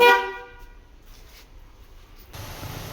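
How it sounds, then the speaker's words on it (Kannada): A vehicle horn is pressed once, giving a short, loud blast right at the start that quickly gives way to quiet background noise. "ಸುಮ್ಮನೆ ಪ್ರೆಸ್ ಮಾಡಿದ್ರೆ ಹಾರ್ನ್ ಬರುತ್ತಲ್ಲ"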